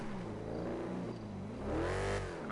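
A fast car's engine in Grand Theft Auto revs and accelerates, its pitch sweeping up, dipping and climbing again over a couple of seconds, fairly quiet and heard alone without speech.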